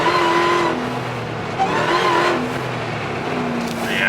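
A Hellcat-powered Jeep Gladiator roars loudly under hard acceleration, its tires briefly scrabbling and losing traction as the engine note climbs.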